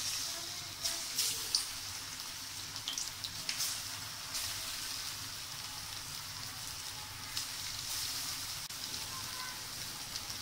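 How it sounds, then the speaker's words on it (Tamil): Chicken 65 frying in oil in a pan gives a steady, soft hiss and crackle throughout, with scattered brief pops and spatters rising above the even sizzle. "pan-ல எண்ணெய் ஊத்தி அத பொரிச்சு எடுத்தா நம்மளுடைய chicken65 ரெடி"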